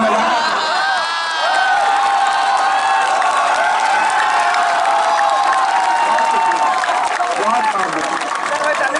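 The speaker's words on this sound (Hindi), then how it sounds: "बस ये तालियों का शोर थोड़ा और बुलंद करे" A large audience at a mushaira poetry gathering claps and cheers in a dense, sustained, loud roar of applause with whoops, steady throughout.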